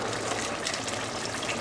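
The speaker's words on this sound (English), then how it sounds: "So now to add some water in." Water gushing steadily into a pan of beef bhuna gosht, a continuous close splashing pour with no talk.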